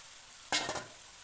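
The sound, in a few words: prawns and vegetables frying in a pan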